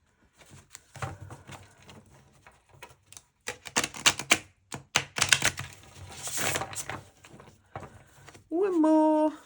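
Playing cards riffle-shuffled in several quick crackling bursts, close by, ending with a brief higher-pitched sound.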